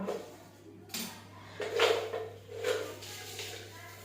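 A spoon stirs salt into raw mango shikarani in a bowl, giving four or five close, irregular scraping clinks against the dish over a steady low hum.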